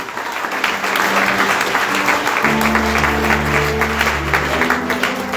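Church congregation clapping to acclaim the Lord at a Sunday service, dense sustained applause with a sung or played tone joining partway, loud and close throughout.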